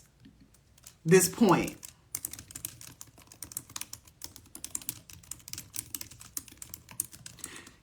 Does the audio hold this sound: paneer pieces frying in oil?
no